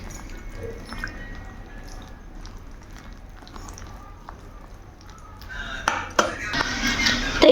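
Cauliflower, potato and flour batter is mixed with water in a bowl, giving soft wet squishes and small clinks that grow louder and busier toward the end.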